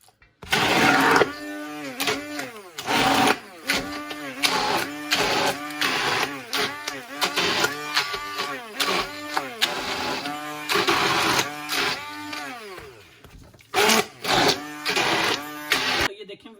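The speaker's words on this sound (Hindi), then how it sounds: "इट्स वेरी इजी टू जो साग है ना इसको आप इस तरह ग्राइंड करें" An electric grinder chops cooked saag (mustard greens) in loud, pulsing bursts, its motor whine rising and dropping in steady repeated cycles close by, with no talk over it.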